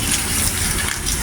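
A garden hose left running, water gushing in a steady, loud, continuous rush close by with no pauses.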